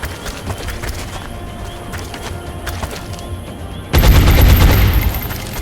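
Gunfire in the video game XCOM Enemy Within, a dense burst of loud shots erupting suddenly after a stretch of quieter clicks and ambient game noise.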